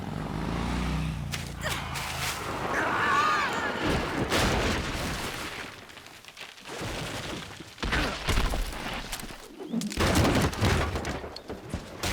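Gunfire and impact bursts in Metal Gear Solid 3: Snake Eater as a tank is shot up, loud, dense crackling volleys with sharp hits and breaks, heard under game voices and effects.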